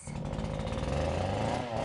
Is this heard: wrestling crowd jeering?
no